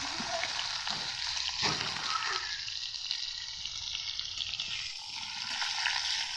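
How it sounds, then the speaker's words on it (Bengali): Chicken frying in a pan at home, with a steady broadband sizzle and some watery, stirring noise running throughout, fairly close and unbroken, with no talk over it. "আমরা চিকেন রান্না করছি"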